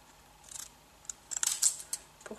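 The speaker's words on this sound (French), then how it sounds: "Et pour les côtés, je prends les ciseaux cranteurs" Several crisp snipping cuts from pinking shears cutting paper, irregularly spaced and fairly quiet, with short clicking bursts and no voices.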